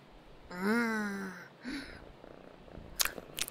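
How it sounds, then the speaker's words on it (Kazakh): A cat purrs close by with a rising, drawn-out vocal tone, followed by a few soft rustles and sharp clicks near the end. "Эх, Анта, жаман мысық."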